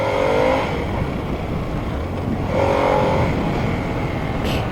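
A Harley-Davidson Sportster S motorcycle accelerates hard, its engine note climbing in two strong surges over steady wind rush, loud and close.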